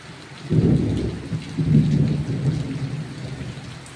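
Deep rumbling thunder rolls in two long swells over a steady wash of heavy rain, loud and close, with no voices.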